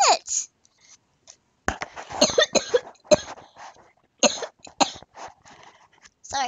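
A person coughs close to the microphone in several rough, uneven bursts separated by short silences.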